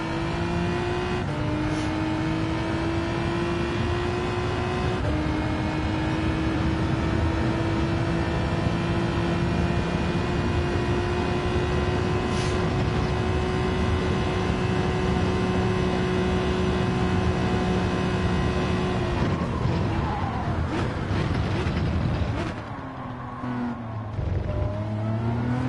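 A car engine holds a loud, steady high-pitched drone for a long stretch, then the pitch dips as it eases off and shifts near the end.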